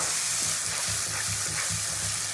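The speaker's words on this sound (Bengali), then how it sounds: "যে সব উপকরণগুলো কিন্তু খুব ভালো করে কষিয়ে নেবো" Ground spice paste sautéing in oil for a Bengali chicken curry, a steady, close sizzle with soft rhythmic scraping of a spatula stirring the pan, no voices.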